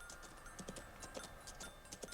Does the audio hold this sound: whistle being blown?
no